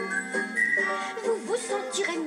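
A cheerful tune is whistled in a French song from Snow White and the Seven Dwarfs, bright melodic notes gliding up and down over accompanying music.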